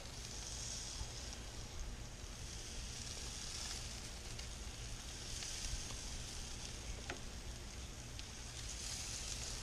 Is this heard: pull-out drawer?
no